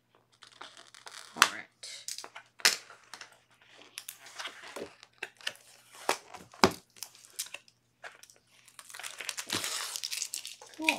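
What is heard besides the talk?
cutting open plastic wrapping of paper pad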